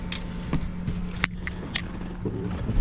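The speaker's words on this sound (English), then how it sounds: "Where'd I put the keys? Here they are." Keys jangle up close in a few quick metallic bursts of clinks and rattles over a low steady hum, with no talking.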